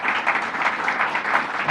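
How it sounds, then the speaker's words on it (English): An audience applauds at an apartment ribbon cutting ceremony, a steady burst of clapping from a crowd that stays loud and even throughout. "let's give him a round of applause as well"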